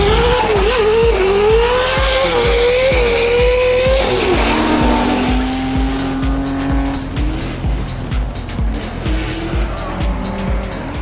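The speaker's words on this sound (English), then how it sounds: "Bev's is rocking with a Corvette, and there's probably gonna be 2 or 3 more cars behind him" A Corvette leads other cars at speed along an Appalachian mountain road during a drift run, engines loud and close with repeated revving, gear changes and tire squeal throughout.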